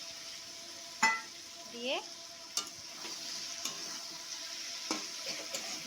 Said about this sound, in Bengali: ভালো করে নাড়িয়ে চাড়িয়ে নেওয়া হচ্ছে